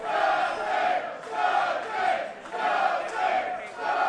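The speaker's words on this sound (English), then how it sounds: "Loud chants ring out for Jake Something." A wrestling crowd at an AAW heavyweight championship match chants steadily for Jake Something, a loud rhythmic chant repeating in even waves throughout.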